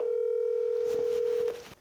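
Telephone dial tone heard while placing a call, a single steady continuous tone held loud and clean for about a second and a half before cutting off abruptly, followed by faint room noise.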